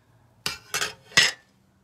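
Makeup being mixed on a small tray, heard as three short, bright clinks or taps close by, evenly spaced in quick succession and then quiet.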